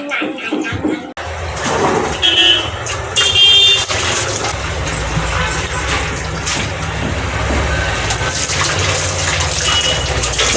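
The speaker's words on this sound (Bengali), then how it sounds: "ওটা বাসন ছিল ধুয়ে দিচ্ছি তাড়াতাড়ি হবে" Tap water runs hard and steadily while dishes are washed in a home kitchen, with a loud, continuous gush and occasional clatter and splashing, and a voice speaks over it.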